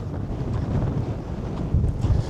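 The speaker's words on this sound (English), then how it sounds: "It is super windy today." Strong wind buffets a microphone outdoors near a road's end on a warm day, producing a continuous low roaring rumble that swells in gusts and fills the whole stretch.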